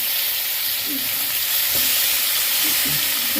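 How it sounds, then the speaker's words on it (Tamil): Onions and chillies sautéing for chicken rolls, a dense, steady close sizzle with faint stirring scrapes underneath. "வதங்கின வெங்காயம் மிளகாக்கே இப்போ சிக்கன் ரோல் பண்ணுறேன்"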